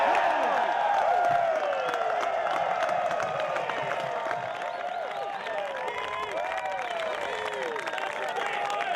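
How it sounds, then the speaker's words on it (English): At the 2008 PDGA Professional Disc Golf World Championships, a crowd of spectators cheers, whoops and claps at moderate distance, with overlapping excited voices and scattered applause running steadily throughout. "Crowd loving it."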